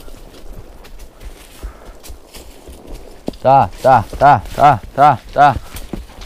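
Hooves of a mare ridden on a farm pasture clip-clop in a steady walking rhythm of about six close, loud beats, following a stretch of quieter ambient noise with a brief spoken word.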